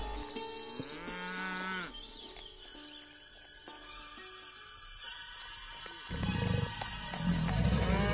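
Low, drawn-out cow moos rise toward the end over a bed of background music, loud and close, with no talking.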